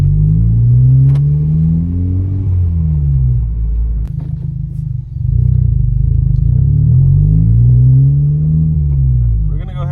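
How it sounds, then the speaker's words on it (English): Honda Civic Type R engine idling and pulling gently in reverse, a steady close, loud low rumble with slight swells in pitch as the car backs up, nothing else over it. "Let me go ahead and back up the car."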